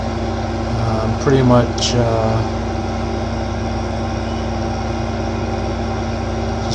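A large tractor pulling a planter in a modded farming game hums with a steady low engine drone throughout, with a brief spoken phrase early on.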